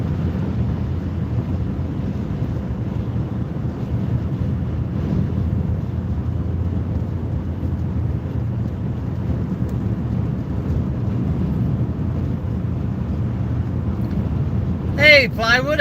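Heavy wind gusts batter the microphone on a road during 60-mile-an-hour winds, a loud low rumble with rolling surges throughout, and a brief sharp sound near the end.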